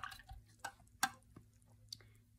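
A paintbrush is rinsed in a water cup during a color-wheel painting lesson, giving a few brief, soft clinks and drips spaced out over a quiet background.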